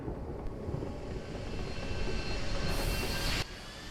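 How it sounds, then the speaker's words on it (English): A helicopter flying in the video game Deus Ex Human Revolution, a steady rumbling rotor and engine roar that holds throughout and swells slightly near the end. "all Deus Ex games have helicopters transporting the special agent protagonists"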